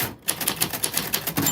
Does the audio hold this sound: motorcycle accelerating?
no